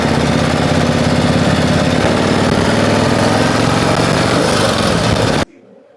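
A 1935 Indian Chief motorcycle engine runs loud and close with a rough, steady thumping throb that holds for about five seconds, then cuts off abruptly to near silence.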